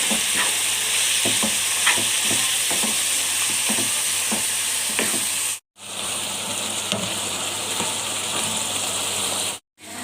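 Liver with coriander, black pepper and salt sizzles loudly in a pan while being stirred, a dense continuous hiss with scraping ticks from the utensil and two sudden brief cutoffs, no talking.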